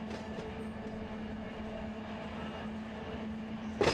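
A freight train on a potash line rolls along with a steady low rumble and hum for several seconds, fairly distant, ending in a brief louder clank.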